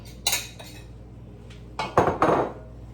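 A metal spoon stirring cornmeal porridge clinks and scrapes against a pot in a few short bursts, with quiet pauses between them.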